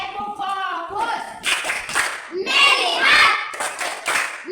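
Children in a classroom clap in a rhythmic chant pattern, with sharp, bunched claps in quick bursts mixed with their voices chanting together.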